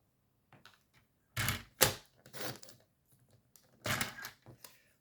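Paper being cut for a scrapbook page, crisp snipping and slicing sounds in a few separate bursts with quiet pauses between, close by and fairly soft.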